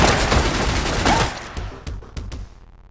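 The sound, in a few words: turret gunfire in video game Receiver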